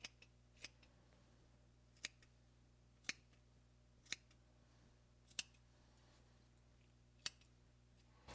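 Scissors snip a moustache in a quiet room, with sharp isolated clicks coming roughly once a second at a slow, steady trimming pace, close and crisp against near silence.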